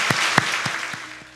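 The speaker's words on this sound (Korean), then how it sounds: "우리 크게 한번 박수 한번 영광을 돌리십시오" A church congregation claps at a Sunday worship service, a handful of separate loud claps spaced evenly and fading toward the end, short and alone with no talk.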